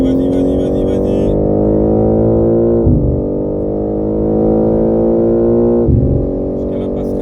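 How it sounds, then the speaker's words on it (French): A race car accelerates onboard at the Paul Ricard circuit, its engine a loud, sustained drone rising in pitch through gears, with two short shift dips and a voice shouting intermittently. "Allez, gaz, on est parti tout de suite."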